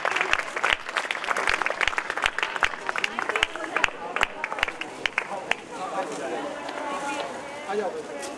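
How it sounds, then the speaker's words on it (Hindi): Audience applause at a book release during an awards ceremony, dense clapping ringing out loud and continuous before thinning into a softer patter toward the end. "आप तालियों की गड़गड़ाहट के साथ विमोचन की अनुमोदना करें।"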